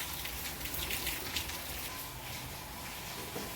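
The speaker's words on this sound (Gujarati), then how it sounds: "બહાર જો ધીમી ધારે વરસાદ ચાલુ છે." Light, slow rain falls outdoors as a soft, even patter and hiss, faint and steady with no voices.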